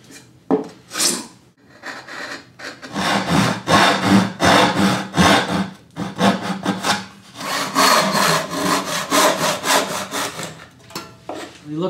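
A hand saw rips along a board with steady back-and-forth strokes, loud and close, in two long runs separated by a short pause after a few tentative starting strokes.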